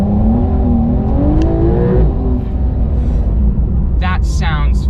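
A 2021 Porsche 911 engine accelerating at low speed with a steady, loud rising drone that lasts throughout, with a brief whir near the end.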